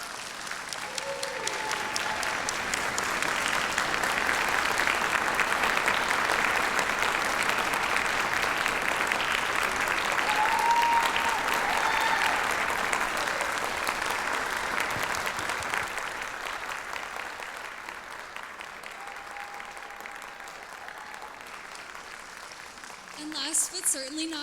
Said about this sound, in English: I really think that deserves the biggest, warmest round of applause that you could possibly give